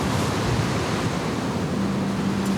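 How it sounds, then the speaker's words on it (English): A very strong wind gust roars over a sailboat at sea, a loud, steady rush of wind and surf that fills the whole moment without let-up. "We've got a very strong gust here"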